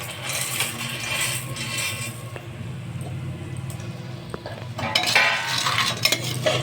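A spoon stirs pasta and gravy inside a pressure cooker, giving steady scraping and squishing against the metal pot with scattered clinks, louder near the end.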